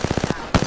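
Enemy gunfire in the video game Apex Legends, a rapid run of about five close, punchy shots, a short pause, then a louder burst of further rounds.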